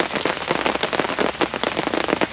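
Heavy rain pours steadily onto surfaces outdoors during an airgun shooting session, a dense, loud patter of drops hitting all around with no voices.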